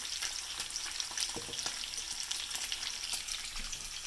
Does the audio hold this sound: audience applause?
no